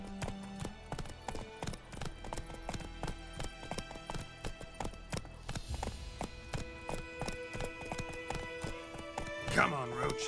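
Hoofbeats of the horse Roach clop in a steady, brisk rhythm across a Witcher 3 game scene, joined near the end by a whinny, with a voice speaking over the hooves.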